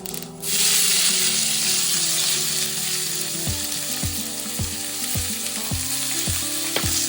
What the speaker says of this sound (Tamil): வதங்கட்டும் வெங்காயம் மிளகாயெல்லாம் வதங்கிட்டு